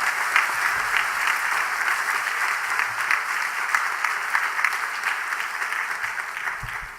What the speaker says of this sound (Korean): 격려의 박수 뜨겁게 한번 부탁을 드리겠습니다.